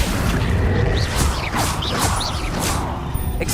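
Spell effects fire in Hogwarts Legacy combat, with a series of whooshing magical swishes and crashing impacts, loud and busy with no talk.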